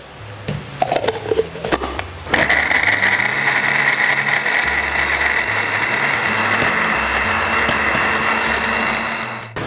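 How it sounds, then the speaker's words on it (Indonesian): Electric kitchen blender grinding chili and shallot spice paste with a little oil, a few short starts and taps, then a loud continuous high whirring grind held steadily before stopping. "ini kita langsung blender aja"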